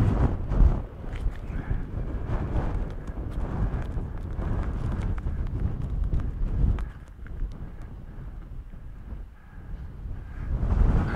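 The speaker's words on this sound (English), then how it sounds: "It's windy." Strong wind buffets the microphone on an open moor in the North Pennines, a continuous roaring rush with gusts rising and falling across the whole stretch.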